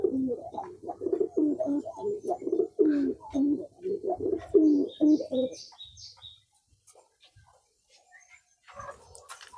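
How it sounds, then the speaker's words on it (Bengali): Lakkha fantail pigeons cooing close by in a run of low repeated throaty coos, followed by quieter moments with faint higher chirps. "এখানে সবগুলো কবুতরের মধ্যে লক্ষা কবুতরগুলো বেশি শতান টাইপের কবুতর"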